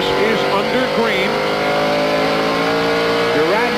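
NASCAR stock cars racing at speed in the 1997 CMT 300, a loud, continuous engine roar with rising and falling pitch as cars accelerate through a corner, while an announcer talks over it.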